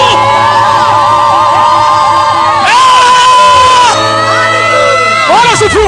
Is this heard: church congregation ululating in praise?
yes